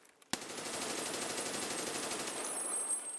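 A G36 rifle fires in sustained full-auto in a video game: a sharp first shot, then a dense, loud, steady stream of rapid gunfire that runs to the end with no talking.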